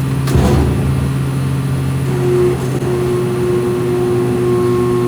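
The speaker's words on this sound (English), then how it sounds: "after manually starting this compressor, I noticed it sounded very off" A faulty air-conditioning compressor motor runs with a steady, loud low hum and harmonic drone, sounding rough and off, with a brief louder surge near the start and no talk.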